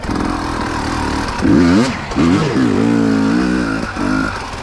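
A dirt bike engine revs up and down in repeated surges on a hard enduro loop, its bald tire spinning with a whining rise and fall, close and loud.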